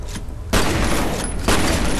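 Loud, sustained automatic gunfire from a gun in the video game F.E.A.R. comes in two dense bursts, with the second volley starting about a second after the first and running to the end.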